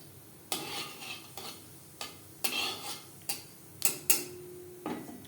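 Half a spoon of whole cumin seeds going into three spoons of hot mustard oil for okra, heard as a series of sharp spoon knocks and scrapes on the pan, each trailing into a brief soft sizzle, close and quiet with no speech.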